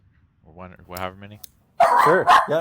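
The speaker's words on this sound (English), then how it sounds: "Sorry, that was my dog" A dog barks a few times loudly and close, in short harsh bursts, just after people briefly talk.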